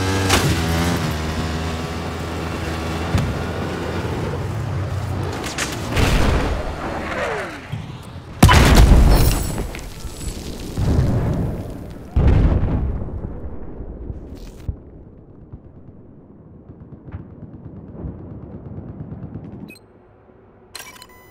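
A missile strikes in a Battlefield video game match, landing as a loud booming blast that rolls and rumbles into several further heavy bursts and fading debris, with a quiet tail.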